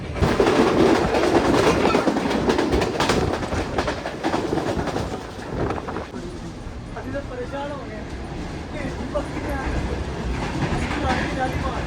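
The Shalimar Express passes alongside another train near Chutiyana, a loud, steady rumble with rail clatter lasting throughout, heard from close by, with a voice speaking over the noise.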